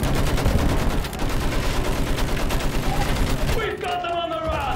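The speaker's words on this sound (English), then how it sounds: "Use that machine gun! Mow them down!" Sustained machine gun fire rattles in rapid bursts during a Battlefield 1 trench battle, loud and continuous, mixed with distant explosions and shouted voices amid the game's combat din.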